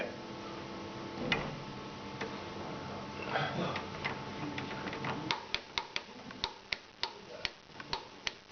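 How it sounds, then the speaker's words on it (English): A torque wrench turning a Porsche 356 engine through a tight spot gives a run of crisp, evenly spaced clicks, close and fairly faint, following a stretch of softer mechanical shuffling. "the torque wrench is clicking with the tight spot"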